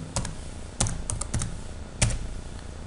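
Keys clacking on a computer keyboard while a web address is entered, with scattered separate keystrokes and a few sharper presses, close and clear with no voices.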